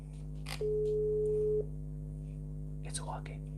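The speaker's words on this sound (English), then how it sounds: "Ringing, let's go." A phone call's ringback sounds as one steady electronic tone lasting about a second over a constant hum, with faint breathy voices before and after.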